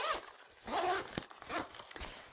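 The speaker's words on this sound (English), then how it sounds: "You close your zipper" A zipper pulled shut on a homemade compression packing cube, giving several short raspy zipping strokes at close range.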